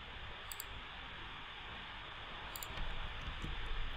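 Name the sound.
computer mouse clicking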